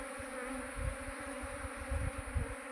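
Honeybees streaming out of hive boxes give a low continuous hum, swelling with occasional close fly-bys and no voices over it.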